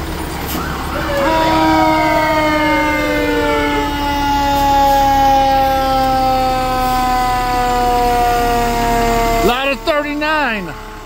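A fire engine's wailing siren sounds loudly and steadily at a fire department 150th anniversary parade in Katonah, with rising and falling tones throughout and a sharper yelp burst near the end.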